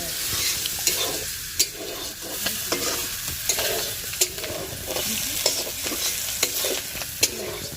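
Flat beans fry in a wok, a continuous sizzle broken by repeated sharp scrapes of a spatula stirring, close and loud with no talk.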